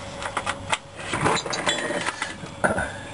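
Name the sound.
ratchet loosening car suspension control arm bolts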